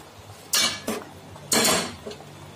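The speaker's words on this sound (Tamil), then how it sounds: "இப்போ நல்லா மிக்ஸ் பண்ணி விட்டுக்கலாம்." A utensil scrapes and clanks against a metal pot while stirring chicken for biryani, a few short strokes, close and fairly loud, with no talking.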